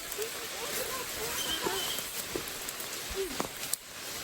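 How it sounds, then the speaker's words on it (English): Steady hiss of heavy rain pouring down in the Hickory Creek Wilderness, with voices murmuring faintly beneath the downpour. "It's raining really hard."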